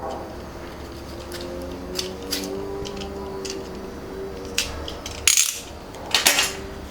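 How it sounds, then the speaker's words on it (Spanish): Scissors or a scalpel snip the tip off a bellows, with a sharp cut near 5.3 s and another near 6.3 s over light clicking and handling noise and a low steady hum. "Con la herramienta de corte que les había dicho que debíamos tener a mano, vamos a cortar esa punta."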